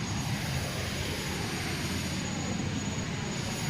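A white Citation business jet's engine spools up in a flight simulator game, a steady, loud broadband roar with a high whine, continuous and alone.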